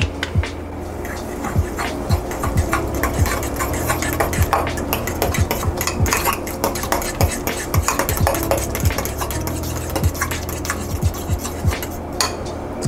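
Vanilla extract being stirred into a drink in a cup, with repeated clinking and scraping of a spoon against the container in an irregular rhythm, close and fairly loud.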